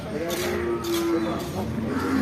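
A cow or bull moos in long, low, droning calls at the Kollannur cattle market, heard up close with crowd noise and faint voices in the background.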